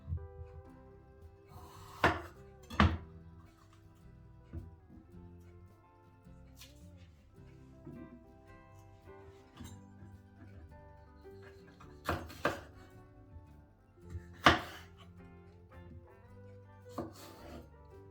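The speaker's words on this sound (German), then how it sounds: "kann den Rest der Paprika auch so gleich dick schneiden" Knife chopping bell pepper on a board for grilled-vegetable chicken wraps: a few sharp, separate knocks spread out over quiet, with music playing underneath.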